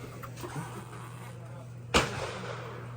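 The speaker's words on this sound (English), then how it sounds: "we're about to shoot the M21 semi-automatic sniper" A single sharp gunshot from an M21 semi-automatic sniper rifle at an outdoor gun range, a sudden loud crack with a short tail over steady background hum and faint chatter.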